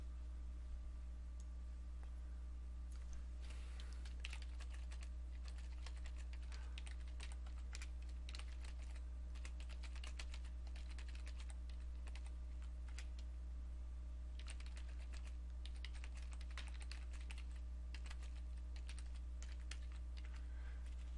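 Steady typing on a computer keyboard runs for about twenty seconds as lines of text go in, with dense irregular key clicks, some brief pauses, and a constant low electrical hum underneath.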